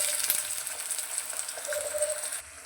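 Chopped tomatoes going into onions frying in oil in a pan for a dhaba-style potato curry, giving a steady moderate sizzle with faint clinks of stirring, no voices.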